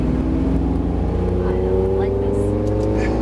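A Ferrari engine pulls hard on a track test drive at speed, a loud, steady, rising drone with strong low harmonics and wind rush, close and continuous.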